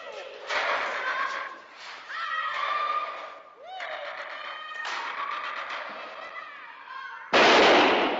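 A single sharp gunshot from a .25-caliber pistol, fired with a bullet still left inside, cracks out loudly near the end, after a stretch of voices and scattered lighter knocks.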